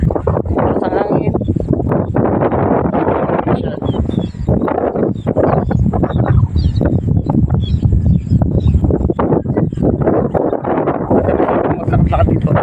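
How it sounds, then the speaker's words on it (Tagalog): Strong wind sweeps across open farmland near Mount Makiling, battering the microphone with loud, gusty roaring that never lets up. "Lakas ang hangin."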